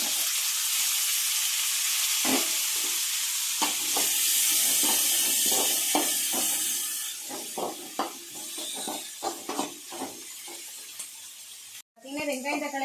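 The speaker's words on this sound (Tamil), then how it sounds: "வெங்காயம் பார்த்தீங்கன்னா நல்லா வதங்கிடுச்சு" Onions, green chilies and tomatoes sauté in a pan, giving a steady sizzle with scattered stirring scrapes. A voice talks over much of it, and there is a sharp break near the end before the frying noise resumes.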